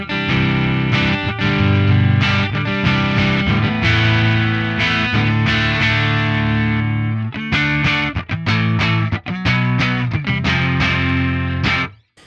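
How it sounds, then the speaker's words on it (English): An electric guitar plays crunchy, driven chords and riffs through a Plexi amp modelled on an Axe-Fx III, no fuzz, loud and close, with brief pauses between phrases before ringing out. "this is what the Plexi sounds like without the fuzz in front of it."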